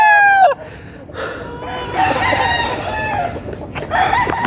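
Gamecock stags on a farm crow loudly and close, one long crow at the start, then more crows and clucks from several birds that go on through the clip, near and far.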